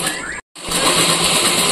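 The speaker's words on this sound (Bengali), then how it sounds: "চলো ঝটপট করে সেলাইটা করে নিই" A sewing machine stitches a bag made from a rice sack, giving a loud, continuous whirring rattle that stops briefly and then runs on steadily.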